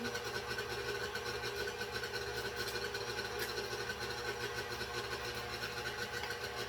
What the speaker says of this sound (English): I love my stand mixer for recipes like this because it allows me to keep my hands free and do other things